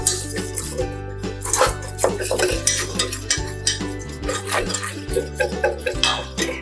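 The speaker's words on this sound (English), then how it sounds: "I add my flour in it and mix it very good" Melted butter and flour are stirred together into a roux in a pot, giving quick repeated scraping and swishing strokes up close over steady tonal background music.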